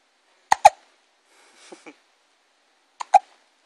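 An infant hiccuping up close, a doubled hiccup, then a soft small vocal sound, then another doubled hiccup, all against a quiet background.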